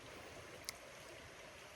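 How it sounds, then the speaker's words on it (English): A stream runs steadily in a quiet, faint, continuous wash of flowing water along the Appalachian Trail, heard alone with no voices. "I decided to stop here because the water's running really well."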